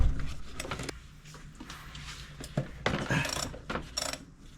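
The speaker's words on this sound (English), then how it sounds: "So I removed the stud with a 14mm deep socket" Ratcheting and scraping metal work on a 1996–2000 Honda Civic motor mount stud being removed with a 14mm deep socket, close and moderately loud, with irregular clicks and rubbing bursts and no talking.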